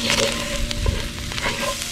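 Flour is stirred into soup in a Dutch oven, with soft scraping and stirring strokes over a steady low sizzle, close and fairly quiet, with no talk.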